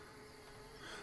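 Flies in The Sims 4 give off a faint, steady insect buzz, a thin continuous drone with no breaks across a brief moment and no talking.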